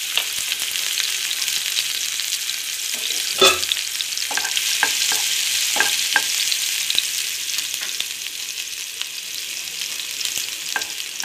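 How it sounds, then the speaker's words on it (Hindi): Finely chopped garlic frying in a spoonful of hot oil, a constant bright sizzle with scattered crackles and pops, close and loud with no voices. "நல்லா ஃப்ரை ஆகட்டும்."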